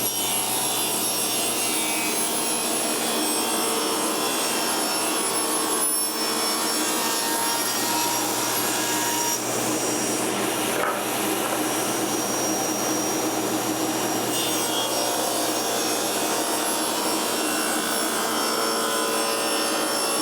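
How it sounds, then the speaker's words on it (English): A woodworking machine runs a board through with a dust collector roaring steadily alongside, making a loud, continuous broadband whir with a few brief dips and swells, and no voices. "So I'll go ahead and turn my dust collection on, and we'll run this through."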